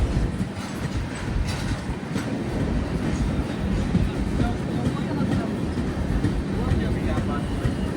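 A long-distance express train rolls into platform three at a station in Odisha with a continuous low rumble and rhythmic wheel clatter, steady and close, with voices around.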